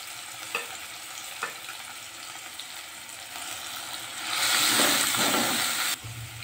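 Masala with cumin seeds and tomato fries in a pan for dal, a steady close sizzle that swells louder and brighter for a couple of seconds near the end before dropping away, with no talk.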